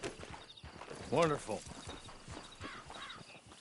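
Horse hooves clip-clopping at a walk in Red Dead Redemption Online, a regular beat of fairly faint steps under a game character who speaks briefly.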